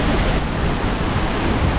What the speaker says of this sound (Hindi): हमारे पीछे ये मैजेस्टिक वाटरफॉल है